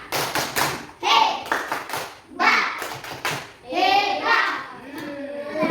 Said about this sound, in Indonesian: mari kita tepuk hebat sama-sama